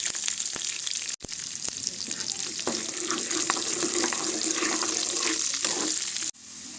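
Cashews, green and red chillies and curry leaves fry in hot oil for lemon rice, a dense continuous sizzle close by, with a few sharp crackles and pops scattered through.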